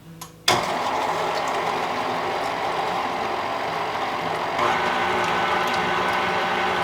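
A stand or hand mixer combines ingredients in a bowl, its steady mechanical whir starting abruptly after a brief quiet moment and running continuously, close and fairly loud, with a slight rise in intensity toward the end.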